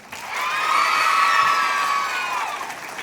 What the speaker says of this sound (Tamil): இன்னொரு உங்களோட ஃப்ரெண்டுக்கு ஒரு ஹாப்பியா ஒரு கைத்தட்டல்.